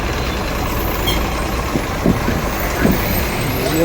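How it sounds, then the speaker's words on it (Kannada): A bus reverses at Arsikere bus stand amid loud, busy engine noise, with short sharp bursts like brake or horn blips cutting through the continuous rumble of the crowded station. "ಗಾಡಿ ರಿವರ್ಸ್ ಹೊಡಿತಾ ಇದ್ದಾನೆ"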